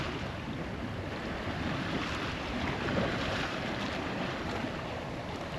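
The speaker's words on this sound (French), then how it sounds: "Voilà, on est à la voile. Tout est sorti." A sailboat running under mainsail and genoa, engine off, with a continuous rush of wind and water against the hull, steady and fairly loud, no voices.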